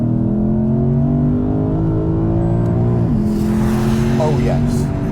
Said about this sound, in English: oh yes, that is a spectacular engine